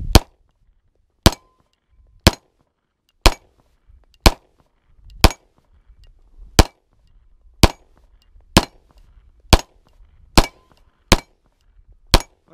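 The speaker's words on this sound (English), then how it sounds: "first couple shots, here we go" A Daniel Defense H9 pistol fires about a dozen sharp, loud gunshots at a steady, unhurried pace, each a crisp crack with a short ring and faint clinks between shots.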